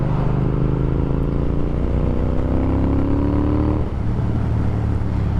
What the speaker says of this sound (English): can you tell the difference? I certainly can. It's way louder. It's a little raspy for my taste